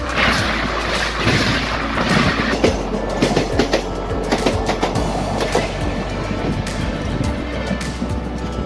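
The 11301 Udyan Express rolling along the line, a loud sustained rumble with repeated clickety-clack wheel beats over rail joints, close by and with no voices.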